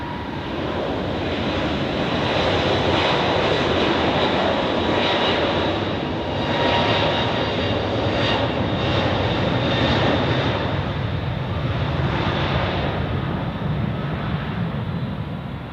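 Steady, loud roar of jet aircraft engines at Zurich Airport during a busy Sunday rush hour, with aircraft such as an Airbus A321neo taxiing near runway 28, a broad continuous rumble that swells and fades slightly.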